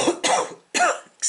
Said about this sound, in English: Oh, I'm still going to cough like crazy.